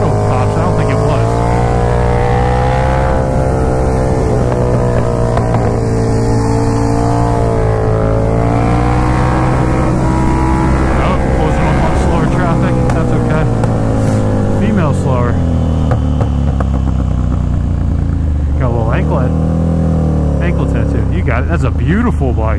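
A KTM Super Duke motorcycle pulling hard in second gear, its engine droning loud and close with rising and falling revs, heard over wind rush with a rider talking throughout.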